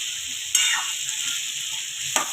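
Black chickpea curry with garam masala being stirred in a pan, a steady frying sizzle with two sharp scraping stirs standing out, close and fairly loud with no talk.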